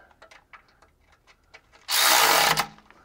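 A power tool snugs up bolts on an Allison AT545 transmission, starting with light clicks and ratcheting taps before one loud burst of about a second of close, rasping whir.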